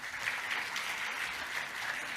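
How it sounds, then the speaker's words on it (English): A round of applause from an audience at a women's energy leadership summit keynote, thanking event organisers; even, continuous clapping of a crowd fills the short stretch without pause. "I'd just like to give them a round of applause for all their hard work"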